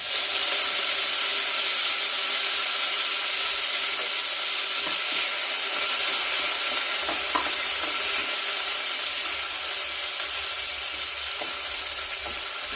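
Curry leaves are added to oil already holding coriander, cumin and dried chillies, producing a loud, continuous, hissing sizzle heard up close with a few faint stirring clicks and no talking.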